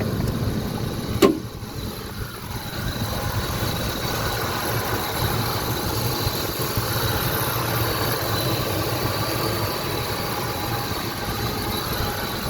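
A 2000 Lincoln Navigator with a 5.4 V8 idles steadily nearby, a low even engine rumble lasting throughout with one brief click early on.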